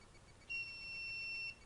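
A buzzer on a temperature-controlled electronic circuit sounds one steady, faint electronic tone lasting about a second, with a quiet background before and after.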